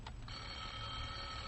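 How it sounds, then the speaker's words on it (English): A telephone bell ringing in an old radio comedy, a steady, sustained ring over a hissy background after a brief initial burst. "there's the phone"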